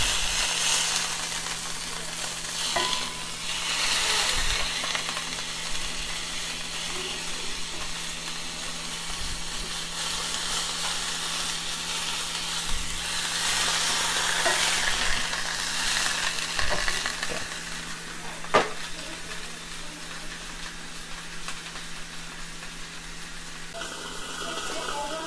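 Meat fries in a pan on a stove, a steady, close sizzle and hiss running throughout with occasional scraping and small clatters, muffled at times as though covered, with a voice speaking now and then.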